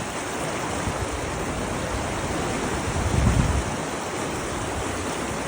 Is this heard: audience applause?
no